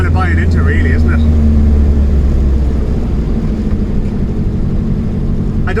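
A 1974 VW Beetle on a road test, its engine droning steadily with a low, continuous hum and road noise throughout, while someone talks over it for most of the ride.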